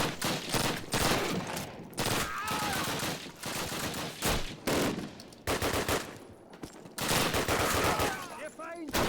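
Call of Duty 1 battle gunfire: dense, continuous volleys of rifle and machine-gun shots crackle throughout, loud and close, with brief gaps and voices shouting in the mix.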